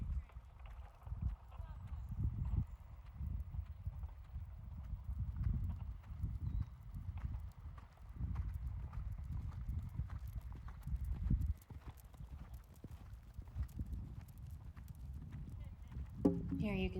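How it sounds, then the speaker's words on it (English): A horse cantering through polework in a riding arena, its hooves clip-clopping in a steady rolling rhythm close by, with some breathing and tack noise; a few strides then slowing. "So he gets like 3 or 4 pretty good strides starting out at the canter this way"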